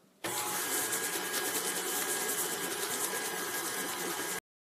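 An electric mixer creaming butter and sugar for sugar cookies, running with a steady loud whirring buzz that starts abruptly and cuts off cleanly after about four seconds.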